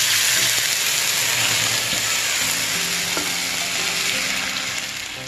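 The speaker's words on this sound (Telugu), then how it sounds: "బెల్లం కొంచెం లేబాకు వచ్చిందాక ఉడకనివ్వాలి" Jaggery for sago payasam boils in a pan while being stirred, a loud, close, steady bubbling hiss with soft scraping of the spoon and no voices.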